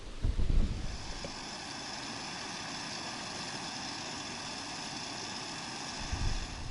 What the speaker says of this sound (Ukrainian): хвиля ну зовсім не перестає, зовсім вітер ще більше роздимається